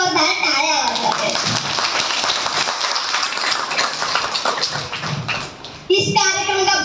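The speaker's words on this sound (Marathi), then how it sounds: "आपल्यासाठी एकदा जोरदार टाळ्या वाजवा" An audience at a Buddhist event in a hall claps loudly together, a dense sustained burst of applause that tapers, with a voice speaking over a loudspeaker before and after.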